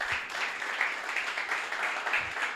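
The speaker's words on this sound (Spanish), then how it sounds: "Dele un aplauso al Señor por eso." A church congregation applauds during a sermon, a dense, steady round of clapping at moderate volume that holds evenly for a couple of seconds, with faint voices low in the mix.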